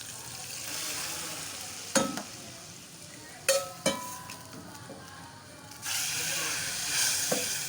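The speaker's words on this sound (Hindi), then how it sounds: "अभी हम बघार डालते हैं दाल के ऊपर और ढक्कन फौरन बंद कर देंगे।" Hot oil tempering (baghar) is poured over cooked daal, giving bursts of loud sizzling and hissing with sharp clanks of a pan and lid in between, then a sustained sizzle that swells toward the end.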